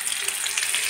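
A little butter melting into about a tablespoon of hot oil in a pan for white pasta gives a brief, steady, bright frying hiss, close and even throughout.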